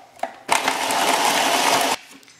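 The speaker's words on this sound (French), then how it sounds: "enfin du gâteau qu'on a coupé, donc on va le mixer" A kitchen blender pulses leftover cake into crumbs in a single loud, steady whir of about a second and a half, preceded by a faint click.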